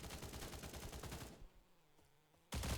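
Rapid automatic gunfire in an online multiplayer shooter, dense bursts filling the first half, a brief lull with faint scattered shots, then a loud burst returning at the end.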